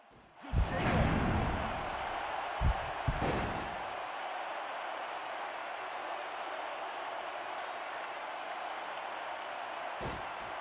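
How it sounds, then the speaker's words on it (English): Wrestling arena crowd in the video game WWE Smackdown vs Raw 2006: a loud sustained crowd roar after sharp slam impacts, continuing as a steady wash of noise with another thud near the end. "This capacity crowd is making their opinions known tonight"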